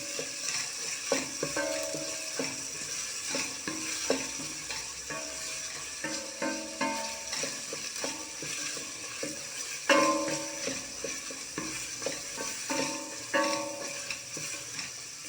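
Carrots sautéing with onion and pepper in a pot for a leek dish, a continuous close sizzle broken by repeated scraping and clattering stirs, with no voices.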